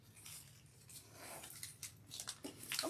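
Scissors snip through grapevine wreath material, a few soft rustling cuts building toward a louder close crunch, set against low background hum.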